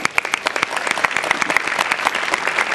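Audience clapping for a Marathi stage comedy skit, steady dense applause from a crowd filling the room, loud and continuous with individual claps audible throughout.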